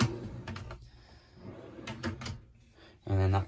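Kitchen drawers in a converted van slide and knock shut in a few short wooden clunks and rattles, with a louder thud near the end, under someone talking.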